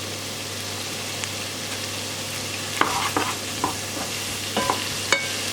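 Potatoes being stirred in a pan to coat them in a curry spice mixture, with soft scraping and faint sizzling over a steady low hum, a few sharper utensil clicks near the end.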